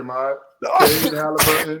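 A single sharp sneeze bursts out between stretches of casual talk about basketball players, with a short quieter follow-up breath.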